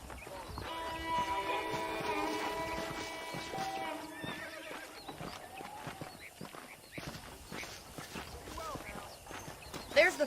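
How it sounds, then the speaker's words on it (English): In the Red Dead Redemption video game, a horse whinnies loudly at first, then its hooves clip-clop steadily close by, with faint game ambience behind. "The horses are saddled up over here."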